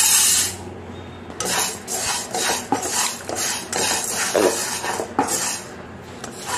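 Moong dal for a baby's uggu porridge is dry-roasted and stirred in a pan. A spoon scrapes and rasps against the metal in repeated, close strokes, with no voices.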